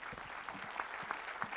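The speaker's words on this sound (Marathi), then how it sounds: "आपण शिंदे साहेबांसाठी जोरात टाळ्या वाजवूया." A crowd of farmers at a public gathering breaks into brief, moderately distant applause, a dense patter of many hands clapping together for a short burst.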